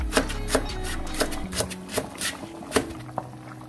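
A knife chops green onion on a cutting board in quick, uneven strokes, close and crisp, with soft rustling between cuts.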